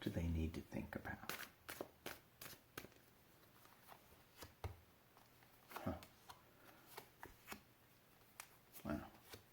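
Tarot cards being shuffled by hand, a run of soft irregular riffles and slaps up close, fairly quiet, with a voice talking now and then.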